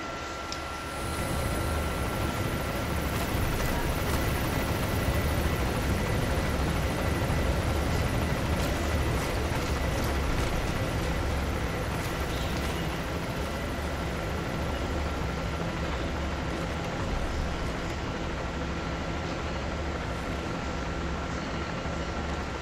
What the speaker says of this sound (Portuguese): Esse helicóptero aqui me fudendo